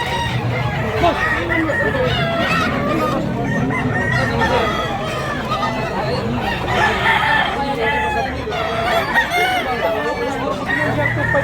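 Several roosters crow loudly over a steady din of clucking fowl and crowd chatter at a chicken market in Tabunok, Cebu City, as someone speaks nearby.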